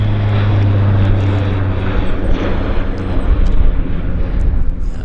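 An airliner climbs steeply after takeoff at Vancouver Airport, its engines producing a loud, sustained roar with a low steady drone that builds and rumbles throughout.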